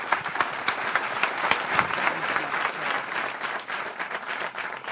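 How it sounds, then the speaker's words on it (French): Applause from the studio audience in a radio broadcast studio, dense and steady clapping that fades slightly toward the end, heard alone without talk. "Je voudrais qu'on se lève pour applaudir une star mondiale qui est venue dans le grand studio RTL."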